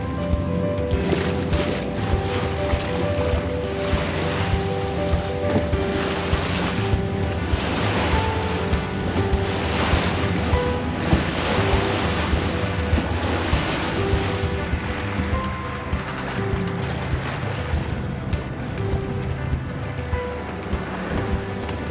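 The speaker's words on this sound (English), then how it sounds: "It's a little bit bouncy and a nice steady wind," Waves slap and wash against a sailing boat off Brighton in a steady wind, a constant loud mix of water surges, hull knocks and wind buffeting the microphone.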